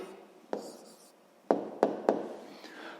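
Pen strokes writing a maths answer on paper: several short, sharp taps and scratches close by, with a quiet gap between bursts.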